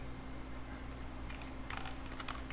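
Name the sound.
typing on a computer keyboard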